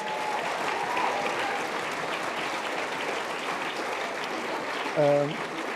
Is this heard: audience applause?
yes